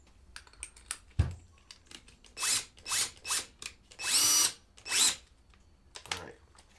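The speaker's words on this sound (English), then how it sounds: "we're going to drill a bigger hole because we got to get this bolt that the Troll Tamer has in there" A power drill bores a larger hole to fit the bolt for a T-H Marine Troll Tamer on a Minn Kota Maxxum trolling motor mount, heard as several short bursts of whirring up close, separated by pauses and small knocks.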